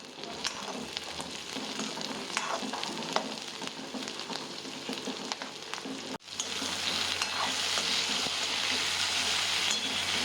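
Onion, tomatoes, green chilies, ginger and garlic frying for a gravy: a continuous hissing sizzle with occasional crackles, briefly dipping and then returning slightly louder and steadier, close and fairly quiet.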